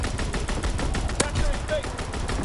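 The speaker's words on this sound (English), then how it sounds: "Fighter pilot inbound. Strafing the target." Rapid strafing gunfire from a fighter plane in a PS4 war video game, a fast rhythmic burst of shots over a busy battlefield din, with one sharp crack standing out midway.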